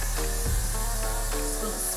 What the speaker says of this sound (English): This is where you take your freeze spray.